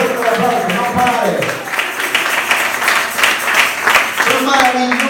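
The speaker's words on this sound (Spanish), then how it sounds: "denle el aplauso fuerte al Señor" Applause in a church worship service, a fast rhythmic clapping driven by the congregation, mixed with voices and music at a steady, fairly loud level.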